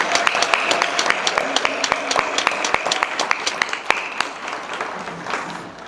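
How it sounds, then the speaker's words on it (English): Audience at a soft grand opening celebration for a children's center gives a round of applause, a dense stretch of sharp individual claps merging into steady clapping that holds at even loudness for several seconds before easing slightly. "Could we please do just one more round of applause for our president,"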